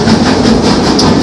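An amusement park ride train rolls past Half Dollar Holler, its cars clattering loud and close along the tracks in a steady rumbling roar with no talk.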